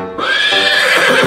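A loud, close horse neigh: a shrill whinny that rises and wavers for about a second, heard alone.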